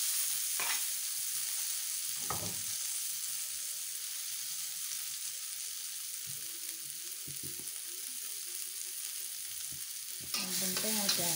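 Shallots, garlic and chili stir-fried in a pan in a small rented-house kitchen give a steady close sizzle, with occasional scrapes and stirring clatter on top and a louder burst of stirring near the end.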